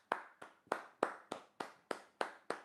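Nine slow, evenly spaced single hand claps from one person, sharp and close, with quiet between each clap and no talking.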